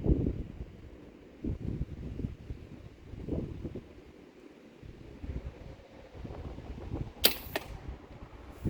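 An arrow shot from a bow whooshes past sharply near the end, following gusty wind buffeting the microphone with low rumbling bursts.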